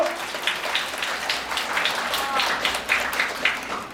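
An audience at a youth camp concert applauds as the next mentor is introduced, a moderate wash of clapping that runs throughout beneath a speaking voice.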